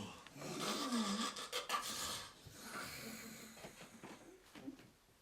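Soft, rasping snoring noises, close and low, irregular and fading slightly over the clip.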